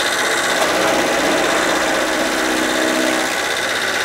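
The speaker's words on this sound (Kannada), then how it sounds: "ಈಗ ಬಾಹುಬಲಿ ಮಾಡಲು 3 HP ಇದು ಗೇರ್ ಮಾಡಲ್ ಯಾವ ಥರ ವರ್ಕ್ ಆಗುತ್ತೆ ಅನ್ನೋದು ತೋರಿಸ್ತೀನಿ ನೋಡಿ" A 3 HP gear-model chaff cutter machine runs in a continuous loud mechanical whir with a steady buzzing hum, close by and unbroken throughout.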